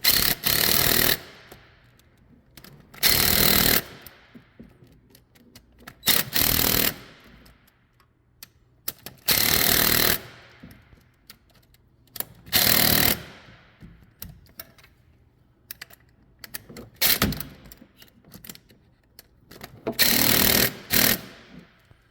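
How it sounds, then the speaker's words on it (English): A DeWalt 3/8-inch impact gun runs in six separate loud bursts, each about a second long, as it tightens bolts. Quiet gaps and faint handling noise fall between the bursts. "they're in there tight with my little 3/8 gun. That's my little 3/8 DeWalt"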